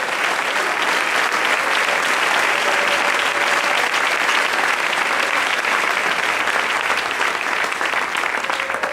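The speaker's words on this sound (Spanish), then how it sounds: "Denle ese aplauso al Rey en esta noche." A church congregation gives loud, sustained applause, dense continuous clapping filling the room for the full stretch with no voices standing out.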